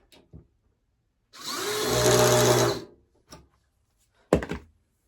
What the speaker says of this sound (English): I'm ready to put my back screws in to hold it up